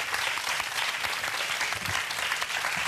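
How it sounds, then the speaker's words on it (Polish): A studio audience claps steadily for a Polish game-show contestant named Krzysztof who has just won money, a dense, sustained round of applause that holds an even level throughout with no break. "Wielkie brawa dla Krzysia."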